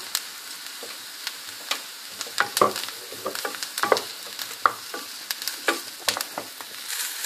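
Mushrooms and coarsely cut onions frying in butter, a low continuous sizzle under frequent sharp clicks and scrapes of a spoon stirring in the pan, close and without talk.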